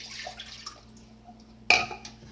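Quiet trickles and splashes as a cup of water is poured into a pot on a stove, followed by a sudden louder splash that trails off, with faint clinks and a low background hum.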